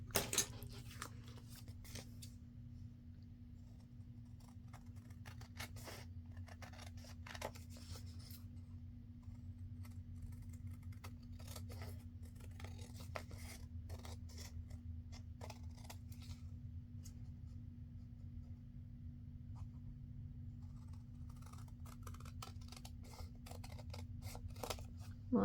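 Scissors snip through a paper index card in a run of short crisp cuts over a steady low hum, close and fairly quiet, with no talking.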